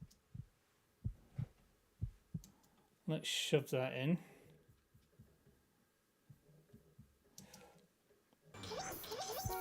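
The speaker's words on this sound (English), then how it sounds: "Let's get a heartbeat sound in, and Final Cut should have some sound effects that I can grab." A heartbeat sound effect from the Final Cut library plays as a steady series of soft, low thumps. A voice briefly talks over it, and the beats keep going faintly.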